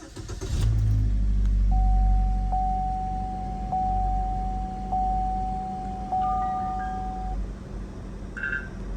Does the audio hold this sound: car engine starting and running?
yes